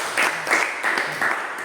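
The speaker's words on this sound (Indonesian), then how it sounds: "Beri aplaus dulu." Classroom applause for a group presentation in a religious studies lesson, a short burst of many hands clapping in uneven waves, fairly close and steady, with no voices over it.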